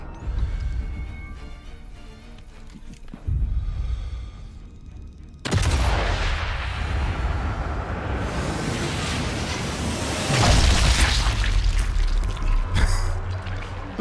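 Gunfire and explosions in Sniper Elite 5, a loud wash of blasts and rumbling bursts that surges after a quieter opening and stays dense for several seconds, with some game sounds underneath.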